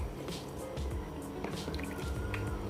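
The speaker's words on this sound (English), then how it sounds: "So I'm gonna add the rice in the pot." Rice is tipped into a pot of cooking liquid for Jamaican rice and peas, giving a steady wet squishing and dripping with soft splashes throughout, close up and with no talk.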